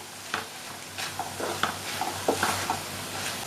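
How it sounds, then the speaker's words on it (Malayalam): Chicken 65 with tomato ketchup sizzles in a pan while it is stirred, restaurant style: a steady frying hiss with repeated soft scrapes and clicks of the spoon, close and moderately loud, with no voices. "അതിനുശേഷം ഒന്ന് നമുക്ക് ഇളക്കി യോജിപ്പിച്ച് കൊടുക്കാം."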